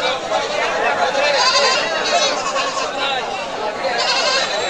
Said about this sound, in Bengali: চাটমোহর রেলবাজার অবস্থিত এই দেশি জাতের ছাগলের হাট।